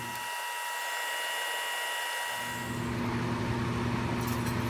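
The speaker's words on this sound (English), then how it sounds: "ready to vacuum off the PBS" Vacuum aspiration drawing PBS rinse off cultured cells during cell splitting, a steady hissing suction hum that grows fuller partway through as liquid is pulled into the line, with no talking.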